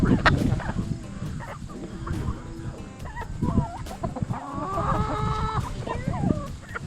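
Chickens cluck and fowl call repeatedly on a Maine farm, close and fairly loud, with scattered short squawks over a busy farmyard background and some voices nearby.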